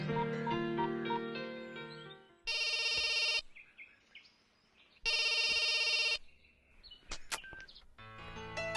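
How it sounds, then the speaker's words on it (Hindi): A telephone bell rings in two long bursts separated by a pause, loud and close, with no one picking up and brief tones between. "फोन नहीं उठा रहा यार।"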